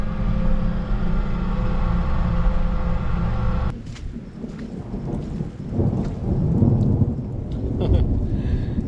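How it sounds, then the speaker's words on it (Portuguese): Heavy rain and a thunderstorm pour down on a corn farm during the end of the safrinha harvest. A steady hum gives way to loud, dense rain hiss with rolling thunder rumbles. No one speaks. "Muita chuva, temporal, raio."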